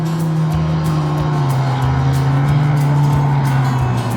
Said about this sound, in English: See, that motor's just dragging.